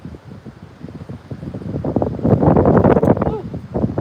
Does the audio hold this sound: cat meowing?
no